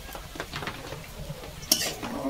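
A spoon scrapes and clinks against a pot while salt and turmeric are stirred into a banana stem and prawn curry, soft irregular knocks with one sharper clank near the end, fairly faint and close.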